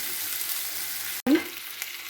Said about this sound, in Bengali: চিনিগুলো সব ঢেলে দেবো,